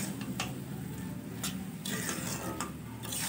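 Carrot halwa being stirred in a pan after a splash of milk, a steady scraping and stirring texture with soft sizzling and a few sharper clinks of the spoon against the pan, close and continuous.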